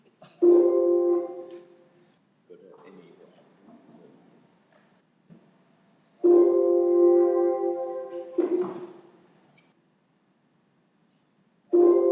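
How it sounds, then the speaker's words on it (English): Three long, loud horn honks separated by pauses, each a steady blaring tone, with faint low background noise in between. "Sounds like horns honking."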